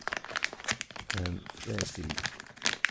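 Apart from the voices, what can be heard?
Injora driveshaft set packaging being opened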